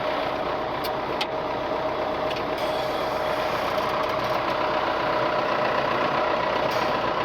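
A diesel tractor engine idles steadily in extreme cold, a constant low rumble with a faint ticking texture and no change in pace throughout.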